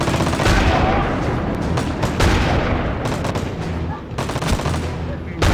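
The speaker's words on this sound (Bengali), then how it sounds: "এখন আমি গ্রেনেড মারবো" Grenade explosions and rapid gunfire in the video game Frontline Commando D-Day, a dense, loud, continuous barrage of shots and booms with only brief dips.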